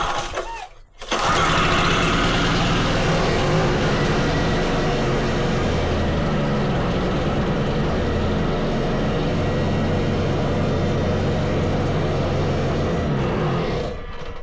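A Wacker Neuson VP1030 plate compactor's engine is pulled into life and then races at high throttle. Its loud, steady, droning roar holds close by for over twelve seconds.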